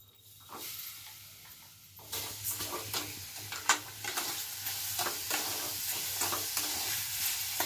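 Sugar and ginger are stirred in a kadhai, giving steady scraping and rustling strokes over a soft, continuous sizzle that grows busier and louder after the first couple of seconds, with no voices.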